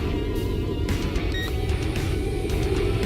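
An FQ31 quadcopter drone's motors whir during a one-button takeoff outdoors in a little wind, a loud, steady buzzing drone with shifting tones as the motors spin up.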